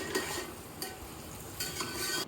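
Vegetables being fried for a curry: quiet spatula scrapes and stirring come in short bursts over a faint background sizzle, with no voices.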